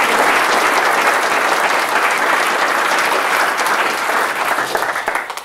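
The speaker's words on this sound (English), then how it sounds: "Please give him a round of applause." Loud, continuous applause from attendees at a public meeting in Balbriggan, thick and even clapping that fills the room before thinning out in the last second.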